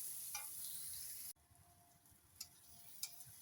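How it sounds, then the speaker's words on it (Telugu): Onions and green chillies frying in a pan, a faint steady sizzle that drops off abruptly partway through, followed by a quieter hiss with a few light ticks. "ఆనియన్, మిర్చి, లైట్ గోల్డ్ కలర్ వచ్చే వరకు ఫ్రై చేసుకోవాలండి."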